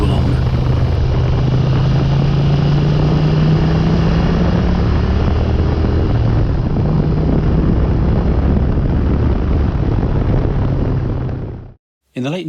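Moto Guzzi 1000S motorcycle riding at slow speed, a continuous low engine drone with a steady rumbling note and wind rush, loud and close for nearly the whole stretch before cutting off abruptly at the end.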